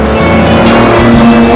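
A 1960s Nissan Skyline GT-R KPGC10 engine drones loud and close while driving, a steady, dense mechanical roar with no voices over it.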